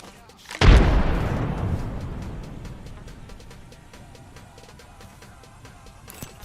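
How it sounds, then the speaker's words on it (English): A thrown grenade explodes in a shooter video game with a single sharp, loud boom that rolls off into a long decaying rumble, followed by faint distant clicks and pops. "Throwing grenade."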